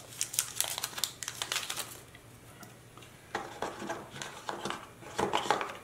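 Plastic packaging of NOVA Pod wireless earbuds being opened up close, bursts of crinkling and crackling with brief pauses between handling sounds, no voices.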